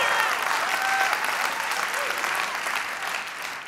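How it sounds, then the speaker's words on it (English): A church congregation applauds loudly and steadily during an offering weekend service, a dense wash of clapping that fills the room for several seconds before easing slightly at the end. "Come on, you gotta clap louder than that."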